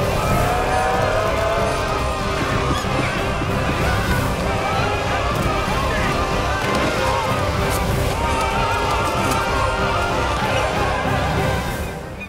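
Horse galloping in Elden Ring, steady drumming hoofbeats with neighs and whinnies over a continuous game backdrop, loud and close throughout.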